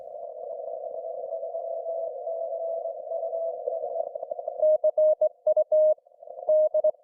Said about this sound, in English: This sounds like a straight key.